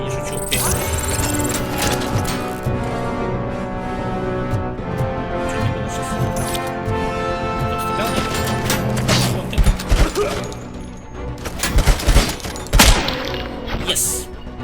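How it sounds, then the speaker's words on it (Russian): Machine gun fire in the RoboCop: Rogue City video game, heavy mechanical bursts and thuds mixed with game music and dialogue, with louder impacts near the end. "Пулемет вышибает на раз-два."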